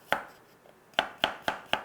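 A kitchen knife chops garlic for a chili-and-sugar seasoning, striking a cutting board in sharp, close knocks: one hit, a pause, then four evenly spaced chops.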